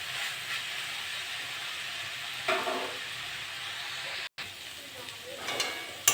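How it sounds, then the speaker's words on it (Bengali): Yardlong beans, potato and pointed gourd fry in a home kitchen pan, giving a steady, loud sizzle with a few stirring scrapes and a brief dropout partway through. "এটা নেড়ে চেড়ে ভালো করে ভেজে নেব।"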